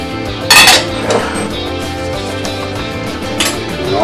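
Utensils clatter and scrape against a bowl while hamburger and sausage are mixed together, loud and close, with a few sharp clinks standing out.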